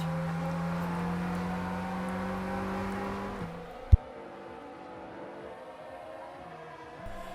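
Race cars in F1 2023 at Saudi Arabia at the restart: engines whine at a steady high pitch for a few seconds, then cut off with a sharp click, leaving a quiet low hum with faint engine tones.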